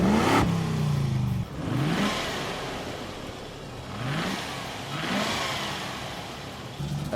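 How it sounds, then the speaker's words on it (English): A Land Rover engine runs with its airflow sensor unplugged, revving up and settling back in repeated waves, loud and close, with no voices. "So if you plug the airflow sensor out, the car runs."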